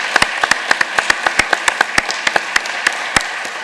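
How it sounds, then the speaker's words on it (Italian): Applause for a general at an honorary engineering degree ceremony, heard as a thin, sparse crowd of separate sharp claps spread evenly across the moment, with no one speaking. "Gli indirizziamo un applauso"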